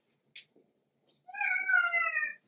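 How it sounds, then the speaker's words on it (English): A house cat gives one drawn-out, clear meow close by in a quiet room, after a couple of small soft noises. "that's my cat"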